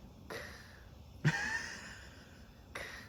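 A person imitates a faint, tiny snore with a few soft nasal breathy snorts, brief and quiet, one slightly stronger than the others.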